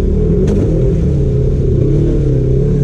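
An off-road vehicle engine on a Windrock trail, loud and close, a steady low rumble with rising and falling revs throughout and a brief knock near the start, no talking.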